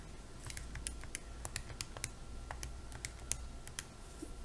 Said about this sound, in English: So I can type that all into the calculator.